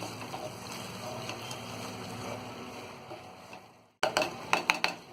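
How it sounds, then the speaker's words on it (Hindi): Matar paneer gravy with cream is stirred and roasted in a pan, a quiet bubbling sizzle with soft scraping. After a brief silence, a few sharp utensil clinks against the pot stand out near the end. "क्रीम डाल के भी हम अच्छी तरह से चलाएंगे और थोड़ी देर हम इसे भूनेंगे"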